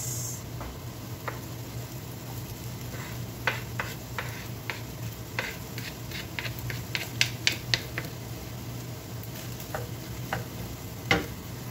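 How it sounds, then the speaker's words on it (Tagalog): Onions sauté in cooking oil and ghee with a low, steady sizzle, close and fairly quiet. Light ticks and scrapes from stirring come at irregular intervals and cluster in a quick run near the middle. "Continuous lang natin guys sa pag-saute."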